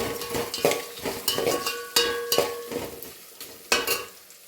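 Ginger garlic paste frying in a pan as it is stirred, with repeated scraping strokes of a spoon against the pan over a light sizzle, close and fairly loud, no talking.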